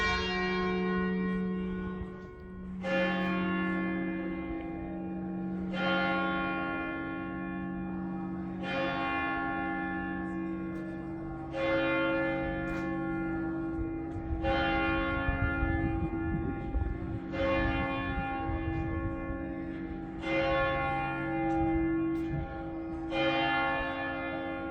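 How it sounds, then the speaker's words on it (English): Church bells of the Dormition Church on Mount Zion in Jerusalem ring in a steady, evenly spaced series of about eight loud, resonant strikes, each tone hanging and overlapping the next, with no voices over them. "Those are the bells of the Dormition Church."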